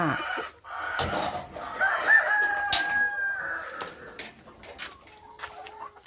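Laying hens cluck steadily with a rooster crowing among them, a busy barnyard chorus close by with no talking.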